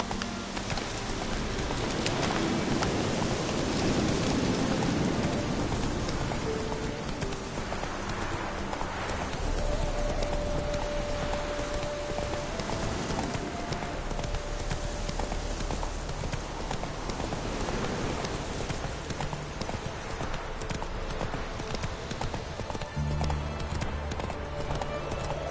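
Hoofbeats of Roach, a horse in a video game, clip-clopping steadily and close throughout, with faint rain and occasional ambient game sounds mixed in.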